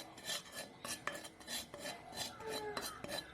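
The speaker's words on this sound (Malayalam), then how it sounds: "അതിനായിട്ടൊരു പാൻ എടുത്തിട്ട് മഞ്ഞൾപ്പൊടി നമുക്കൊന്ന് വറുത്തെടുക്കാം." Turmeric powder dry-roasting in a pan, with a spatula scraping and stirring in short, steady strokes and small metallic clinks, close and moderately quiet with no talking.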